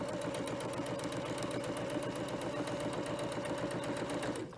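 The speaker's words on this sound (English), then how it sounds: "So you're just going to put it under the sewing machine" A sewing machine runs steadily, stitching a row down a seam in fabric at about half an inch, a continuous close motor whir with rapid needle rhythm that stops abruptly at the end.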